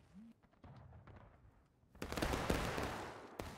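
A musket volley in War of Rights, a Civil War battle game, breaks out as a loud ragged crackle of many overlapping shots, preceded by quieter scattered reports and faint shouted commands.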